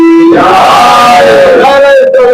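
At a religious majlis gathering, a crowd shouts a loud, sustained slogan in response to a chant, with massed voices in a drawn-out, wavering cry that stays close and forceful throughout.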